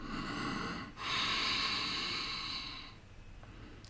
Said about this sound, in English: first you breathe out completely, empty out your lungs,